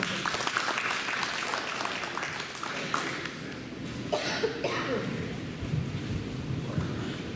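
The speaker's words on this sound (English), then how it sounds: "Let's give her a round of applause." A post-prom hypnosis show crowd gives a round of applause, a rough, fairly steady patter of clapping mixed with room noise and a few stray voices and coughs.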